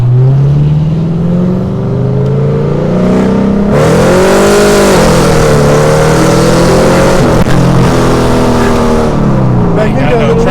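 A Porsche Cayman S or Pontiac G8 GT engine revs hard and loud, its rising and falling notes close by with a throaty roar, as people talk over it inside the car.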